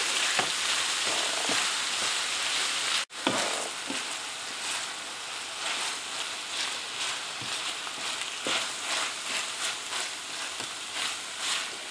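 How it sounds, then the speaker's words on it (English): Creamy sauce stirred in a pan with a spoon, a continuous close sizzle and bubbling with soft rhythmic scraping strokes and one sharp knock partway through, no talk. "just keep stirring"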